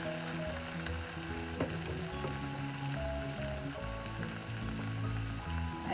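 Okra sizzles steadily as it fries in a pan for a ladies finger and tomato curry, with occasional soft scrapes of stirring over a constant bubbling hiss and no voices.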